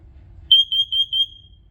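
A combined smoke and carbon monoxide alarm under test gives four loud, shrill electronic beeps in an even rhythm, close and clear over a faint low background hum.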